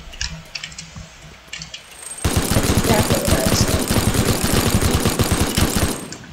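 Rapid minigun fire from a Teardown game mod opens after about two seconds of quieter background and then runs continuously as a loud, dense burst of shots with no let-up to the end.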